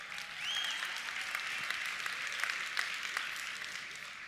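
Audience applause at a company convention, a steady wash of many hands clapping at moderate, somewhat distant level, sustained evenly throughout without voices over it.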